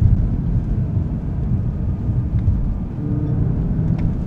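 A BMW car accelerates in third gear on a snowy road, giving a low, steady engine rumble and road noise from inside the cabin that stays even in loudness throughout.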